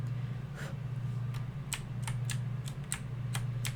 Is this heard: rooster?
no